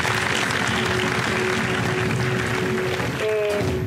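Steady, fairly loud clapping from a group welcomes a caller named Margarita from Bogotá on the religious radio show Gozate la Fe, an even wash of hands that runs the whole time with little else over it.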